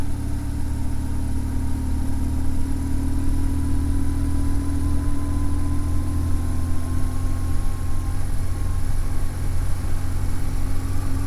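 A motorcycle engine idles steadily on a snowy mountain road, a constant low rumble held at an even, loud level throughout with no change in pace, no voices heard.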